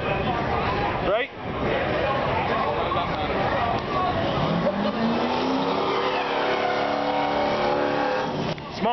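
A built drag race car on Hoosier slicks with a stroker small-block engine revs loudly and continuously, its pitch climbing as it pulls away, with talk over the engine.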